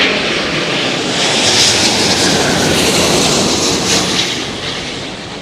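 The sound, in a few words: airplane landing in high winds at Heathrow Airport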